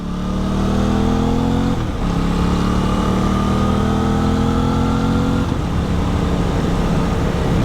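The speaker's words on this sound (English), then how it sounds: "These bikers are right in the middle of the street." Motorcycles riding down the middle of a street, their engines droning loudly and close, with rising revs that drop and climb again through gear changes, sustained throughout with no talking.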